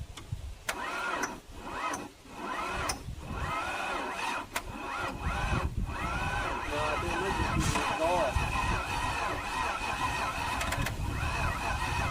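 Repeated starter cranking on a car with a turbo setup: several short whirring cranks separated by pauses, then a longer sustained cranking run with a rough engine note, close and loud, with a voice heard in places.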